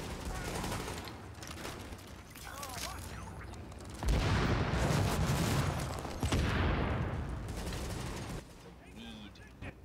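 Shooter video game firefight at Grand Central Station, with dense rattling gunfire, thumping impacts and mechanical clatter under a speaking voice, swelling louder midway.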